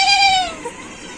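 A person imitates a goat with a single loud, wavering bleat that trails off, close to the listener.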